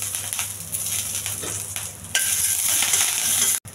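Curry leaves and onion frying in hot oil in a pan with black gram dal for an okra fry, a steady sizzle that jumps louder and brighter halfway through, then cuts off abruptly near the end.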